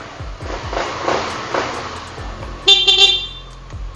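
A short horn honk beeps out over a 2017 Kawasaki Ninja 250 motorcycle idling nearby, with a couple of clicking sounds before it.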